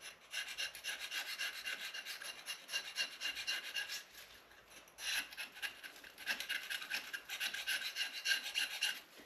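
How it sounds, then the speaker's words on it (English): A razor blade scrapes thick carbon buildup off the barrel of a 12-inch silencer after about 4,000 rounds, producing close, continuous raspy strokes with a brief pause midway. "take a razor blade and scrape it uphill"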